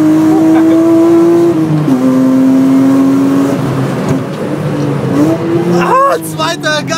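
Car engine revved hard in second gear by a racing driver at the wheel, a strong sustained roar rising and falling through gear changes, with tire squeal and skidding as the tires give out, under excited talk.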